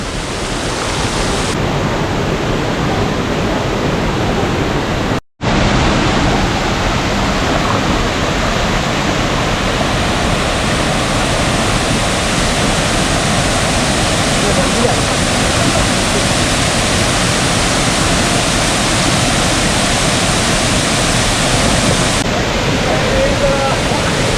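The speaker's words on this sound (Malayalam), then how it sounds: "ഈ ഒരു വെള്ളച്ചാട്ടത്തിൻ്റെ പ്രത്യേകത എന്ന് വെച്ച് കഴിഞ്ഞാൽ രണ്ട് മൂന്ന് തട്ടായിട്ടാണ് ഈ വെള്ളച്ചാട്ടം ഉള്ളത്" Aruvikkuzhi waterfall at Thadiyoor, Pathanamthitta, drops over two or three tiers, and its water roars loudly and steadily throughout, with one very brief break near the start.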